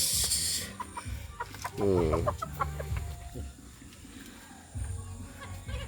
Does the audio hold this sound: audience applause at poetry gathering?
no